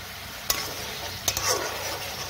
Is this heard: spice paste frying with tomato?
yes